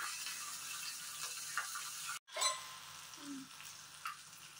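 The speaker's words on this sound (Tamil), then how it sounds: "இதெல்லாம் பொரிஞ்சிட்ருக்கு" Chana dal, cumin and dried chilies frying in hot oil give a steady, fine sizzle throughout, with a brief dropout and a couple of soft clinks or stirs partway through.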